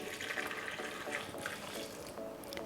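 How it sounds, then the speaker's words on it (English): Boiled milk is poured from a microwave-heated container onto chocolate in a steady, continuous liquid stream with a soft splashing wash throughout. "I pour it on top of my chocolate."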